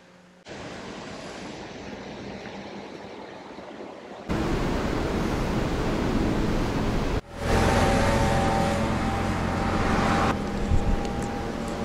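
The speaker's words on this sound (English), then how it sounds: "Well, I finally made it to the ocean." Steady broadband surf from ocean waves at the shore in Kadena, Okinawa, a continuous wash that swells louder partway through, with no talking.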